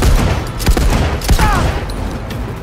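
Gunfire crackles in the video game Cyberpunk 2077, several sharp shots scattered irregularly across a brief busy firefight, loud and close with game background noise.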